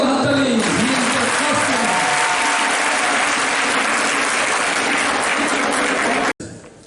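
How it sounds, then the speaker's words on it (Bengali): Dense, sustained applause from a hall audience at an open awareness quiz competition in the Rabindra Centenary Hall, loud and steady for about six seconds before cutting off abruptly into a quieter room. "দিবের জন্য একটা বড় হাততালি"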